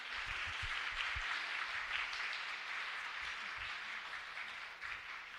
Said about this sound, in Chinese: 我们给他们一个掌声